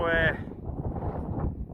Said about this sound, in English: You can probably tell it's really windy